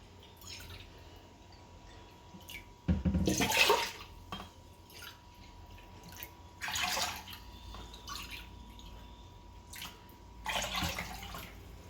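Water is poured in several short bursts into rice in a pot for Kathiyawadi vaghareli khichdi, each splash and trickle close and distinct against a quiet kitchen background.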